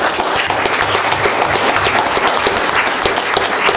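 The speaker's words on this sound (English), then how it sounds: "one big round of applause again for everyone" Sustained, loud applause from an audience at a village board of trustees meeting, dense clapping that fills the room without a break.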